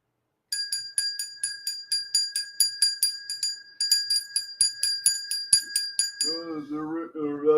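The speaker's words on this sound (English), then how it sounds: "The bell's ringing again." A small bell rings rapidly and repeatedly in a home, a bright, clear string of close strikes over several seconds before it stops and a voice begins speaking.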